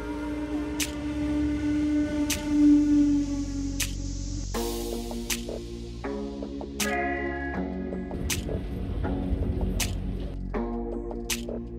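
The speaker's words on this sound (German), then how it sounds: "Jetzt kommt gleich mein Zug, dann lasst die Reise losgehen." A train arriving at a station, with a steady mechanical hum and rumble, a sustained tone early on, and sharp repeated clicks and rattles as it pulls in, with no voices.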